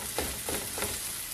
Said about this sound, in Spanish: Le agregamos la cebolla que cortamos en rebanadas delgadas.